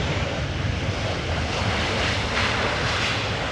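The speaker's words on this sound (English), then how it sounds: "At the moment, arriving from London Heathrow, a Boeing 737-800 from KLM." A KLM Boeing 737-800 airliner arriving from London Heathrow lands at Amsterdam Schiphol, a broad, steady roar of jet engines and rushing air heard from a distance and sustained throughout, with no voices.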